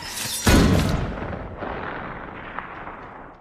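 A single loud gunshot blast cracks nearby in a war film battle, followed by a long booming echo that slowly fades, with no voices.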